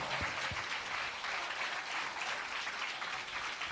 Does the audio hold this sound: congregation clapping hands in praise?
yes